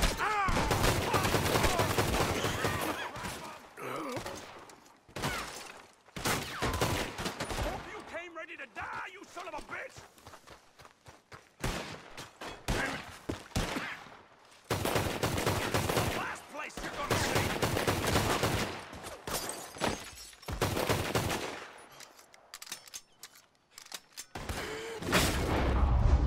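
Bursts of gunfire in a shootout in the video game Red Dead Redemption 2, with repeated shot volleys and booms between stretches of shouting and talk, loud in clusters with quieter gaps.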